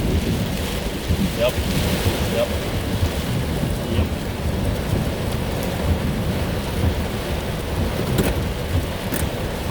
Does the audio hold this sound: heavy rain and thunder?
yes